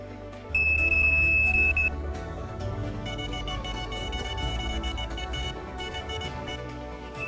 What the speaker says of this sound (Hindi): तभी स्मार्ट फिशिंग अलार्म आपकी पलक झपकने से भी तेज प्रतिक्रिया करता है।